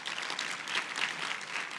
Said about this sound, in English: Now let's give Mam Kiza one good round of applause